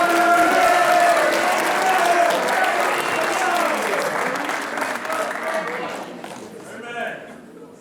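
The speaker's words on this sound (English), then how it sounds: "Everybody please give Jack a round of applause." An audience at a student writers expo applauds for a poem reading, a dense burst of clapping that gradually thins and fades toward the end, with a few voices mixed in.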